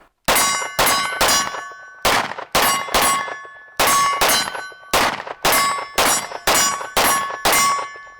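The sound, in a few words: pistol shots hitting steel targets at range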